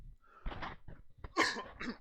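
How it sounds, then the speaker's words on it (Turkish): A man with a failing, hoarse voice coughs a couple of times, short rough bursts close to the mic, with breathy sounds between them. "Pardon bir tane öksüreyim."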